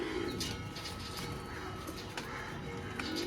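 Soft cooing from a collection of fancy pigeons, low repeated calls murmuring quietly through the short stretch, with faint background shuffling and a little distant voice.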